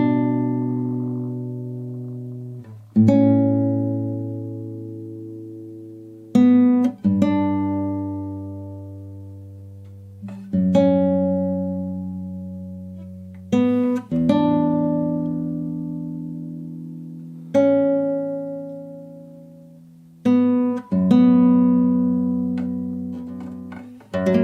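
Classical guitar plays the opening line of a melody from The Last Of Us Part II, slow and free-form, with plucked notes and chords ringing out and decaying in separate phrases, close and clear with no talking.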